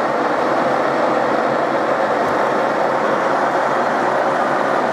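A milling machine spindle turns at about 400 RPM while cutting a brake caliper mount, making a loud, steady, continuous mechanical drone that holds even and unbroken from start to finish.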